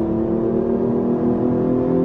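A Hyundai Genesis Coupe 3.8-liter V6 engine with an intake noise generator holds a steady, loud rev, a continuous throaty drone with no voices.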